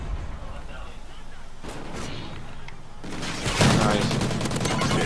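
Shotgun blasts from a first-person shooter match, loud and dense, a heavy burst swelling near the end amid continuous game noise and background talk.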